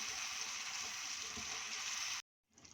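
Boiled urad dal sizzles and fries steadily in a pan, a continuous close hiss that cuts off abruptly near the end before faint sound returns.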